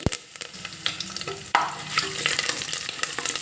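Drumsticks and soaked chana dal go into hot oil, and a sharp burst of sizzling builds into busy, crackling frying with occasional stirring clinks. It is close and clear, with no voices.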